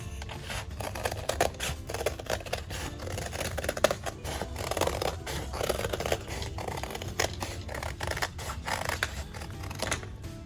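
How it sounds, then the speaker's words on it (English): Scissors cut steadily around a dried marbled paper circle, a dense stream of rapid close snips and rustling paper scrapes that runs on for several seconds at an even, moderate level. "you're actually going to cut out all the way around the corner"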